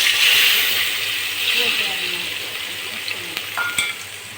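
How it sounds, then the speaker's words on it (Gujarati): Ivy gourd (tindora) sizzles in hot oil in a pan with a steady frying hiss that slowly fades, and small clinks and scrapes of stirring toward the end. "બધા ટીંડોરા વઘારી નાખ્યા છે."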